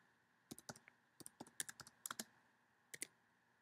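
Quiet, close computer keyboard typing in irregular bursts of sharp clicks, with short pauses between clusters of keystrokes, as a commit comment is entered.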